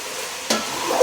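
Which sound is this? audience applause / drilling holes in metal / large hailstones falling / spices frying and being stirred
spices frying and being stirred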